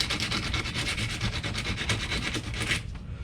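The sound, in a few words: soldering iron tip scratched on sandpaper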